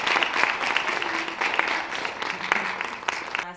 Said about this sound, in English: I'm going to have us all applaud and welcome our amazing guest of honor tonight